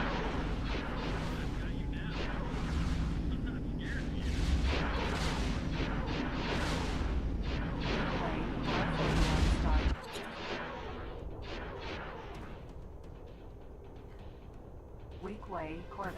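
Ships trade continuous heavy gunfire in the X4 space game, a dense rumbling barrage of booms and blasts that fills the first ten seconds, then drops to a thinner, quieter layer of fire and effects.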